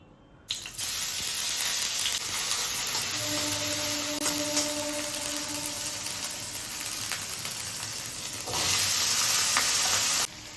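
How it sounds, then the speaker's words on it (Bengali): Cumin and spices sizzle and fry in a hot wok, a steady, loud crackling hiss that starts abruptly and keeps going throughout, with faint stirring scrapes and no talking. "আমি একটু জিরে দিয়ে করে দিয়েছি কড়াইটা চাপিয়ে দিলাম"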